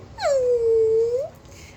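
A dog gives a single drawn-out whine, loud and close, a sustained high plaintive tone lasting about a second before trailing off.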